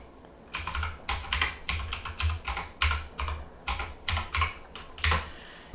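Someone types a Wi-Fi password on a computer keyboard, a close, fairly loud series of about a dozen distinct keystrokes in an uneven rhythm, with no talking.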